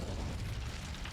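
Incendio fire spell blast in the Hogwarts Legacy video game, a continuous booming, roaring burst of low rumble with crackle, sustained at even loudness with no talking.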